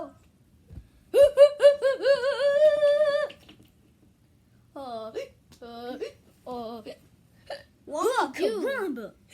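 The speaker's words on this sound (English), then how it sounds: "Oh no, everybody has the hiccups." Several cartoon-style voices hiccup over one another, first in a long wavering tonal burst, then in short choppy clusters and a final rising flurry, close and loud, with no words spoken.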